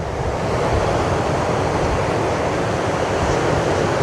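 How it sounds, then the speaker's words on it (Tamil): Ocean waves along the 17-Mile Drive coast in California make a loud, continuous roar of surf mixed with wind buffeting the microphone, with no talking. "அலையை பாருங்கள் எப்படி இருக்குன்னு."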